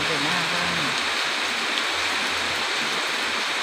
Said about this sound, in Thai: ฝนตกแรงด้วย